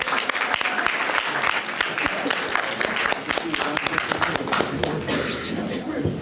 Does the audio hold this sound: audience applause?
yes